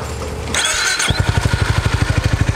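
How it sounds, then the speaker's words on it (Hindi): A Royal Enfield Classic 350 motorcycle on its main stand cranks briefly, then catches and settles into a steady, close, loud single-cylinder idle with an even thumping rhythm. "मैंने बाइक को स्टार्ट कर दिया है और ये हमारा आइडल मोड पर है बाइक"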